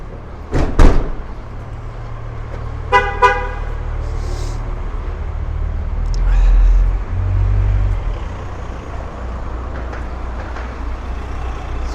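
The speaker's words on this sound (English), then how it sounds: "I've never seen this many cars here for a long time" Busy street traffic in Alcoy, Spain, during the fiestas: a constant rumble of passing cars and trucks, two sharp honks near the start, a longer horn blast around three seconds, and heavy engines rolling past.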